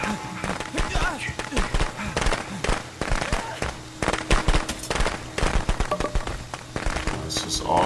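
Gunfire and firecrackers pop in the Friday the 13th video game, rapid bursts of sharp cracks and bangs scattered throughout under voices talking over the action.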